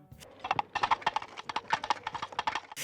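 Two coconut halves clapped together to imitate a horse's hooves on cobblestone, as in the 1975 comedy Monty Python and the Holy Grail. The clopping is a steady, close, galloping rhythm of sharp knocks, with no voices.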